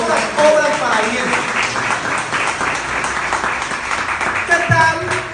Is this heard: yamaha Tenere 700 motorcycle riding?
no